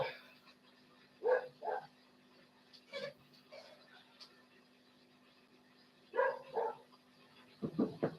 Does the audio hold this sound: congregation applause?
no